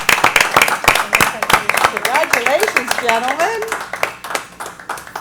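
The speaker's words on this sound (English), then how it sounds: "I think that deserves a definite round of applause." Scattered hand claps ring out from a small audience at a city commission meeting, close and uneven, under someone speaking briefly.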